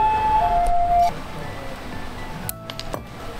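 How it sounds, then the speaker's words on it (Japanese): An ambulance siren wails at a distance outdoors, with a steady tone that fades over the first second, while a person talks nearby and small clinks and handling sounds follow. "ちょっと救急車来ちゃった"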